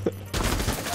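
Rapid automatic gunfire erupts in a Rainbow Six Siege match, a dense burst of shots that starts abruptly after a brief quiet moment and carries on loud and close to the end.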